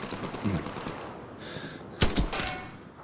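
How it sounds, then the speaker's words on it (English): Lewis gun machine gun in Hell Let Loose, a few short bursts of rattling fire, the loudest burst near the end, against a faint battlefield background. "Go with the Lewis gun"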